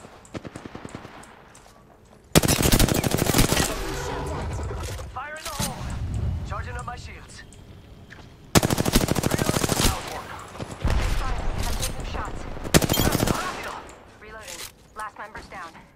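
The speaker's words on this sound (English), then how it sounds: "They're shooting at me!" Gunfire in Apex Legends comes in loud, dense bursts of rapid automatic shots with a few single cracks between them. Game voice lines and speech run underneath.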